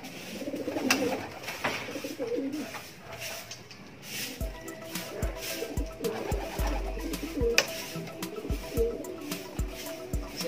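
Pigeons coo in soft repeated low calls close by, with light knocks and shuffling sounds in between and a faint voice at the start.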